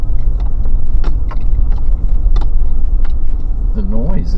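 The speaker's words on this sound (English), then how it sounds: "the incredible noise of the trucks going past." Heavy truck traffic roars steadily past a roadside campsite in Southeast Queensland, Australia, at close range, a constant loud rumble with passing vehicle surges; a voice briefly speaks near the end.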